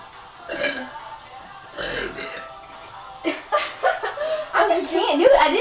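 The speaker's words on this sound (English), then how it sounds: "it's like it says American burping" A woman tries to force out burps in the style she calls American, giving several short, croaky belch-like bursts that grow louder and closer together near the end, with chuckling between attempts.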